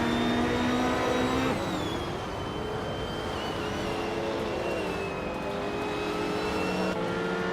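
A vintage 1966 Porsche 906 racing at Magny-Cours in a video game, its engine holding a steady high drone with pitch shifts as it changes gear, loud and continuous.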